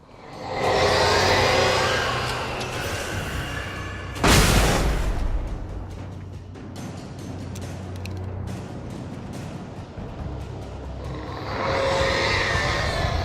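A flashbang or flare goes off in Alan Wake on Xbox One: one sudden loud broadband bang about a third of the way in, set within continuous rumbling game ambience and effects, with no talking.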